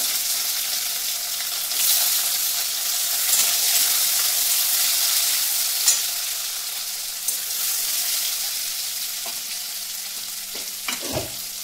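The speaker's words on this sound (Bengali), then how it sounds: "পেঁপে আর আলুটাকে একটু ভালো করে ভেজে নেব।" Pieces of papaya and potato fry in hot oil in a home kitchen pan, a steady close sizzle throughout with occasional clinks and stirring taps, no one talking.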